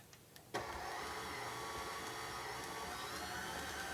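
An electric stand mixer creams brown sugar, dark brown sugar and a spice mixture for gingersnap cookies, starting abruptly after a brief quiet moment and then running as a steady, moderately loud motor whir.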